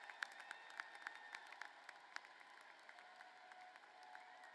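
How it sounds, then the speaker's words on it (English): A commencement audience applauds in a large hall, steady distant clapping with a few sharp individual claps and faint crowd murmur, fairly quiet overall. "We applaud all of you for a job well done."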